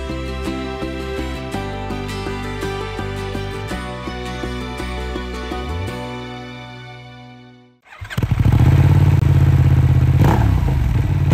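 Tonal music plays and fades away, then a Benelli Leoncino 800 motorcycle engine starts up nearby and runs with a loud, rough rumble.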